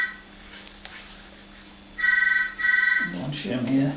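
A telephone rings nearby in a workshop while a drawer front is being fitted, with two trilling ring bursts followed by someone talking over it.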